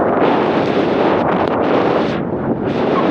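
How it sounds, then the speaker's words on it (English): Strong wind buffeting the microphone outdoors, a loud, continuous roaring rumble that barely lets up for the whole stretch. "Whoa, that's windy."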